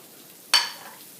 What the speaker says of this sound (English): And then you'll just toss your onions and your mushrooms in together